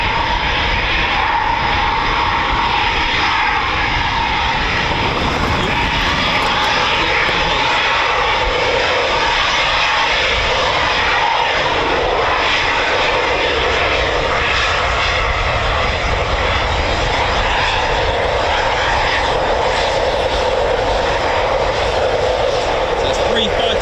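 Eurofighter Typhoon FGR4 fighter jets at RAF Coningsby give a loud, sustained engine roar that holds steady for the whole stretch, with voices talking over it.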